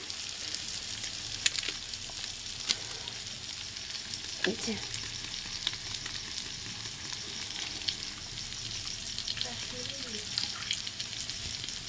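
A steady, close sizzle of spices frying in hot oil for chicken curry, with occasional scraping stirs and faint voices in the background.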